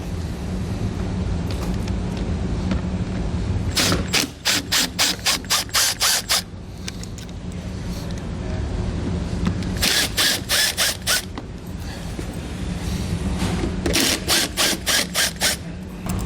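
A power driver with a T15 Torx bit spins out wheel well liner screws on a 2021 Chevrolet truck. Three loud, close bursts of rapid ratcheting whirr rise over a steady mechanical hum.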